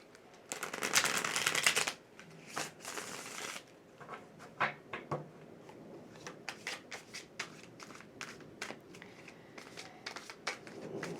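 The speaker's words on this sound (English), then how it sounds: "let's move on to our Thoth deck. We're going to take 3 cards from here" Thoth tarot cards are shuffled briskly in a long riffling burst, then cards are drawn and laid down one by one in short, crisp slaps and flicks, close and clear, with no talking.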